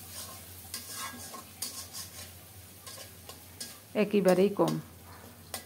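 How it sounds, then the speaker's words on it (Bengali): Spice paste of ground green chilies being stirred and fried in a pan on lowered heat, soft sizzling with scattered utensil clicks and scrapes, while someone speaks briefly near the end. "চুলার তাপটা একটু কমিয়ে দিয়ে মশলাটাকে ভালো করে নেড়েচেড়ে কষিয়ে নিচ্ছি।"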